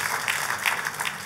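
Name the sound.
audience applause in church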